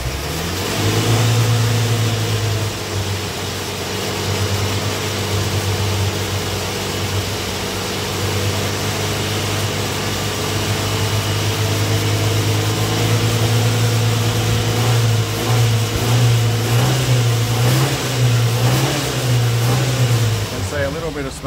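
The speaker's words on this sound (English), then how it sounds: "Might hold it on a couple of thousand revs again for a minute" A 1968 Datsun 1000, a shed-find car being coaxed back to running, idles and is held at a steady couple of thousand revs, its engine droning loud and close for about twenty seconds with slight surges toward the end.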